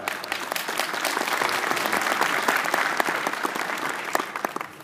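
Sustained audience applause at an adtech industry award ceremony, a steady crowd of clapping hands building slightly and then tapering near the end, with no voices over it.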